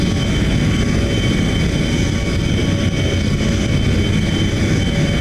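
A pair of Me 262 fighter jet engines in BeamNG.drive drone with a loud, steady, unbroken roar that stays constant and even throughout, with no voices over it.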